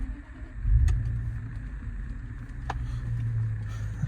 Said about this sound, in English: And then to start the car,